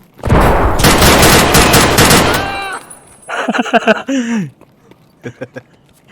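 Automatic rifle fire in Escape from Tarkov: a loud, dense burst of rapid shots for about two seconds, then voices talking with a few short sounds.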